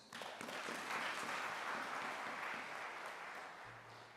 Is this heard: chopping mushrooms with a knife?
no